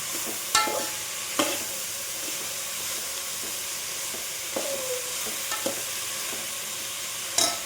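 Carrots, beans, tomato and coriander fry in a pan with a steady low sizzle, broken by a few sharp clinks and scrapes of stirring, close by, with no talking.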